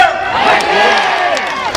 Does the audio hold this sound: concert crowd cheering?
yes